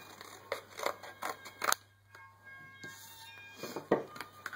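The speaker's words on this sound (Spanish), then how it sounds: "Lo que tenemos que pasar a la tela roja, ¿vale? Que lo voy a recortar." Scissors cut out a paper pattern for a red fabric Christmas stocking in close, quiet snips, first a quick run of cuts, a short pause, then another burst of snipping.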